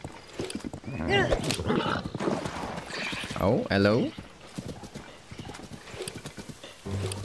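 A horse in Zelda: Tears of the Kingdom clip-clops along with a neigh partway through, its steady hoofbeats mixed with a player's talking and game sounds.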